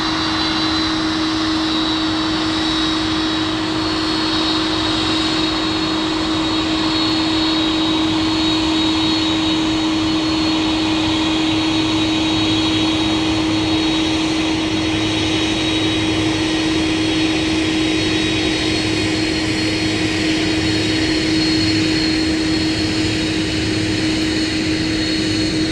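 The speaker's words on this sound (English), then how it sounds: "We're going to see if we can get the folks that are piloting this MD-11 to do it. And gosh, that is loud." UPS MD-11 jet taxiing at MSP airport, a loud steady roar with a piercing engine whine holding constant for the full stretch, close and unbroken with no voice.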